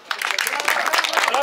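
Brief applause at a football medal ceremony for the 2023 Trofej Beograda final, quick dense clapping from a crowd that starts abruptly and stays loud, mixed with voices.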